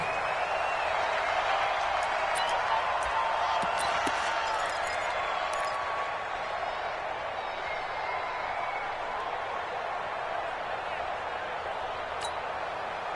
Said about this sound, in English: And in front of a raucous crowd, this one is underway.